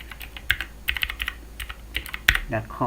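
Someone types a web address on a computer keyboard, a quick irregular series of light, close key clicks with brief pauses between bursts.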